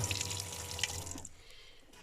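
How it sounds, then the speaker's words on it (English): A tap in a budget camper van conversion kitchen runs water into the sink with a steady close splashing hiss, then shuts off about halfway through, leaving quiet room tone. "Where's the tap? There you go, it's on."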